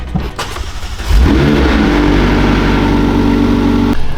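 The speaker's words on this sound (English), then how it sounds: "Crank the vehicle, let it warm up, let that 5 quarts run through the engine" A McLaren 720S engine cranks and fires up with a quick rising roar, then settles into a loud, steady warm-up idle with a humming tone, close by until the sound cuts off near the end.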